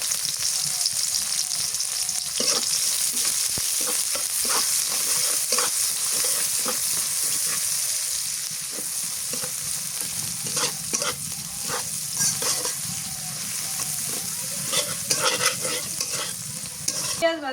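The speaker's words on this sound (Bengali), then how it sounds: "পেঁয়াজ কুচি দিয়ে দিই" Chopped onions fry in mustard oil with black cumin seeds in a kadai, a loud continuous sizzle close by, broken by frequent clinking and scraping stirs of a spoon against the pan.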